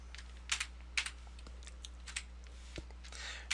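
Light typing on a computer keyboard, a series of quick soft key clicks in short irregular bursts over a faint steady hum, with no talk.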